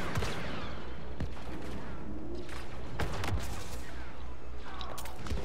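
Gunfire in the video game Star Wars Battlefront II, with bursts of loud shots and booms cracking through a dense, continuous battle din.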